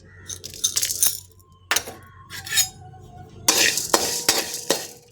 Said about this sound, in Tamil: கொஞ்சம் அதிகமாகவே வறுத்துக்கலாம் அது கூட ஜீரகம் சேர்த்திக்கலாம் மிளகும் சேர்த்திக்கலாம்